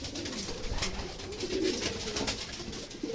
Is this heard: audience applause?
no